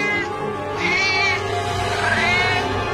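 A cartoon cat lets out two drawn-out, rising meows over a busy background of music and effects, loud and close.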